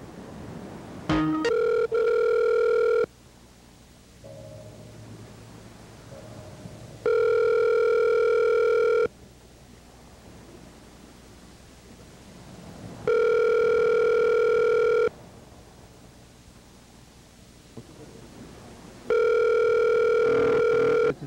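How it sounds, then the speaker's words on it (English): Telephone ringback tone heard on an outgoing call to a producer, four long steady rings spaced evenly with quiet gaps between, loud and clear with no talk. "let's call Fred the producer"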